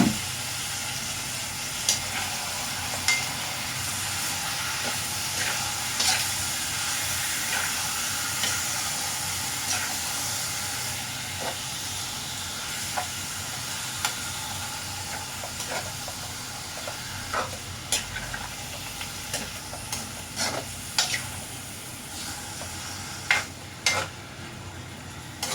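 Chopped liver for Ilocano igado sizzling steadily in a hot pan, a continuous soft hiss broken by occasional sharp crackles and spatters, with no talking.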